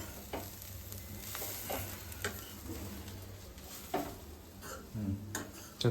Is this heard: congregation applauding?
no